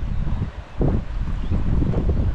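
Cold wind buffets the microphone aboard a fishing boat at sea, a steady low roaring rush with a brief lull before gusting back up, no voices present.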